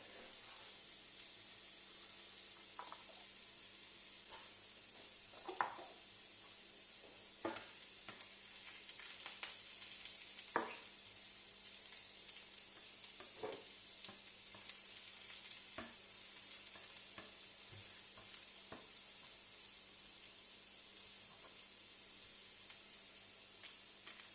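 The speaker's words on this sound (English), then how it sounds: "And ginger, we have to cook it for 1 minute as well." Ginger frying in a hot pan gives a steady, soft sizzle throughout, with occasional scrapes and clicks of stirring, close and fairly quiet.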